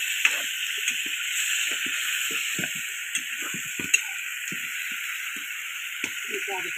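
Chicken curry sizzles steadily in a pan while a spoon stirs it with irregular clinks and scrapes, the frying hiss continuous and fairly loud throughout.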